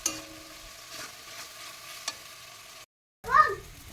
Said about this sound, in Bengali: এবার এই মশলাটা আমি তেল যত সময় না ছাড়িয়ে দেবে ততক্ষণ কিন্তু আমি ভাজবো।